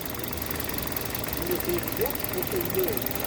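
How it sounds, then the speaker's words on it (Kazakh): With the hood open, a car's engine idles in a steady, close hum, running evenly under someone talking throughout. "Моторун угуп турасыздар."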